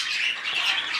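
A hand-raised female budgie gives a short, harsh squawk up close, a single raspy burst lasting about a second with no other sounds.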